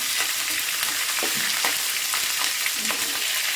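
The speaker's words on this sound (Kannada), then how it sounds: "ಈಗ ಸ್ವಲ್ಪ ಚಿಟಪಟ ಅಂತ ಸೌಂಡ್ ಬರ್ತಿದ್ದಿಲ್ಲ" Spices and mustard seeds crackle and pop in hot oil for a tempering, before green chillies go in for a special curd rice; a steady close sizzle with scattered sharp pops runs throughout, no talk.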